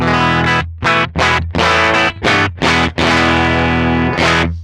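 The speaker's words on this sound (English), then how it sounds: "here's the sound of my guitar going through the amp" A distorted electric guitar plays loud chopped chords through a Line 6 Stadium XL amp head, several short stabs and then a long sustained ringing chord, with no talking.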